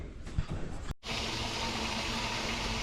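A submersible water pump with its motor at the bottom drains water in a steady, loud gushing rush that starts abruptly after a brief pause and continues unbroken.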